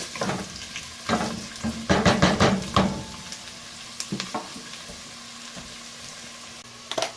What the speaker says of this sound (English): So I just put a piece to make sure, the oil is hot. See, it's sizzling.